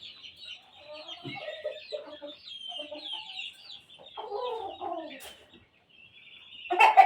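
Gamecock roosters cluck and crow in a series of short calls, fairly close, with a sharper crow bursting out loudly at the end.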